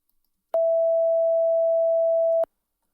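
A pure 660 Hz test tone held steadily for about two seconds, starting and stopping abruptly with small clicks, clear and alone in silence.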